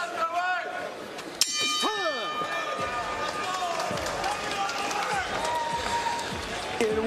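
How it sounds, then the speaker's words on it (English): A boxing ring bell clangs once, sharp and loud, to end a round in a professional bout, ringing over a noisy arena crowd while a commentator keeps talking. "10 seconds, gentlemen, listen for the bell."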